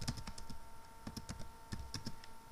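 Typing on a computer keyboard while entering a command in a bash terminal, a quick irregular patter of individual key clicks, close and fairly faint, with no talking.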